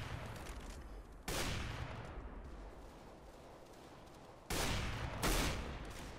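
Rapid bursts of gunfire from a player shooting in CS:GO, loud and close, with two sharp volleys standing out over a dense background of game noise and echoing shots.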